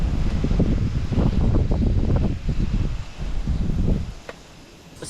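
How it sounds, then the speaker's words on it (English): Gusty wind buffets the microphone at an open campsite beside a Can-Am Defender side-by-side, a loud low rumble in uneven surges that eases toward the end, with no voices. "I do not enjoy that wind."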